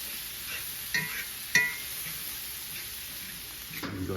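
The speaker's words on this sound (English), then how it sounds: "Give it a little stir." Browned venison stirred in a pan for a pot roast, with a low steady sizzle and a few scraping clicks of the utensil against the pan, one sharper knock midway.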